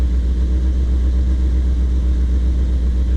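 A Chevy C10 truck engine idling with its rusted exhaust removed, a steady low, even rumble held loud and close from start to finish with no voices.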